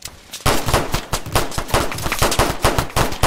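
Rapid automatic gunfire in a video game, a loud, steady stream of closely spaced shots that starts abruptly and continues throughout with no talking.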